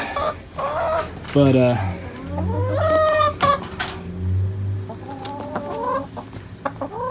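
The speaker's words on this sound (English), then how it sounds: "so here's the chickens." Chickens clucking and squawking nearby in a busy flock, with someone talking briefly over the birds.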